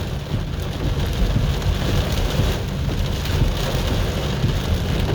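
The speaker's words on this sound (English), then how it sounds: "It's raining hard." Heavy rain pours steadily during a tornado storm on a road trip, a dense, continuous roar of drops drumming on surfaces, loud and close with no talk.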